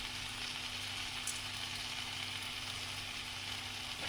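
Mashed tomato chutney with salt sizzles and fries in a pan as it is stirred, a soft, steady hiss with only faint stirring scrapes underneath.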